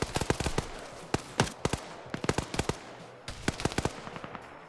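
Gunfire in a video game battle: rapid bursts of sharp automatic shots in quick clusters with short pauses, fairly close and crisp.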